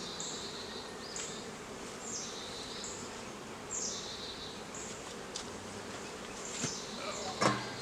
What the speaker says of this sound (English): We got quite a bit of bees right here in the box.